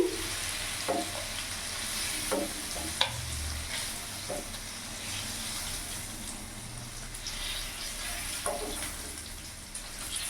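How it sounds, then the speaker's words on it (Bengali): Paneer pieces shallow-fry in oil in a pan, giving a continuous soft crackling sizzle with a few stirring clinks, close and fairly quiet. "দেখতে পাচ্ছ শ্যালো ফ্রাই করে নিয়েছি"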